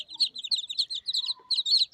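Ducklings peep and chirp in rapid high-pitched bursts, calling for their mother hen duck, close and fairly faint with no talk over them.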